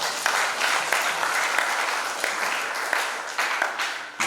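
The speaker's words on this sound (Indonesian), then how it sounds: "Kita berikan tepuk tangan untuk mereka." Applause breaks out for a newly married couple at a Catholic church wedding, a steady, moderately loud patter of many hands clapping together for about four seconds with no talk over it.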